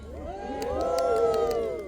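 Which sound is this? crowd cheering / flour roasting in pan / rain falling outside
crowd cheering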